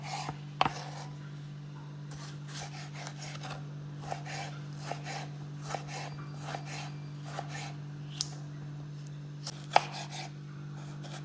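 Tomatoes chopped with a knife on a board for a mutton and cauliflower curry, a dozen or so soft, spaced cuts over a steady low hum, fairly close and moderately quiet with no talking.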